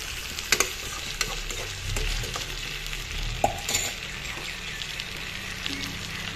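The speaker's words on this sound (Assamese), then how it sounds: "ইয়াতে এতিয়া বিলাহী আৰু আলুখিনি এড কৰি দি দিম এনেদৰে অলপ কৰি লগাই দিম" Stirring tomatoes and potatoes into a sizzling fish curry in a pan, with a steady fry hiss, scattered scraping clicks of the spoon and a couple of louder knocks near the start.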